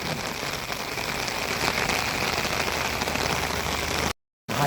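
Steady, heavy first monsoon rain in Konkan, India patters continuously on a surface, filling the scene with a dense hiss before cutting off briefly near the end.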